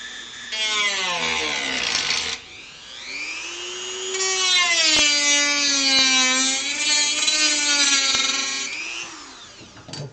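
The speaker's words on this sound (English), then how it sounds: "Come in with our trusty Dremel." A Dremel rotary tool grinds a seam, its high whine rising and falling in pitch through several long bursts with a short pause between, loud and close with no talking.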